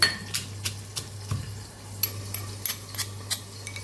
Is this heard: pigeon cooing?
no